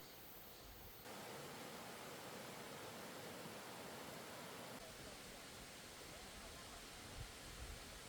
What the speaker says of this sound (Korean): 용림교 있는 곳에 이름 없는 작은 폭포가 하나 있습니다.